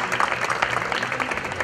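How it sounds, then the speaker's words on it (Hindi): Applause from an awards ceremony audience, a dense steady patter of many hands at moderate loudness throughout the short stretch. "एक बार जोरदार तालियां हो जाए मेघना भाई जी के लिए।"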